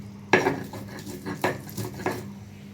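A metal kadai wok clanks sharply onto a stove, followed by a few lighter metallic knocks and scrapes at uneven intervals over a low background hum.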